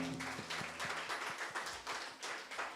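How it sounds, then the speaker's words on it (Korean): A church congregation gives a round of clapping in praise after a prayer; rhythmic, fairly even claps at low level spread through the moment, with a faint tonal hum underneath. "주님께 영광의 박수 드리겠습니다."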